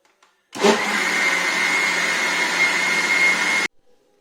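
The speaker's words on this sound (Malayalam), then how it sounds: "ഇത് നമ്മൾ നന്നായിട്ട് അരച്ചെടുത്തു കേട്ടോ അപ്പൊ അതാണ് നമ്മുടെ മാവ് അരച്ചെടുത്തത്" Electric wet grinder grinding soaked rice into appam batter, a steady whirring motor hum that starts abruptly, runs evenly for about three seconds, then cuts off.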